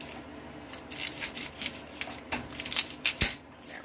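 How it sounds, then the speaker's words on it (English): A knife slices through an onion on a cutting board, several crisp crunchy cuts and scraping rubs with one sharp thud of the blade hitting the board, close and fairly quiet. "I'm actually going to cut this onion in half."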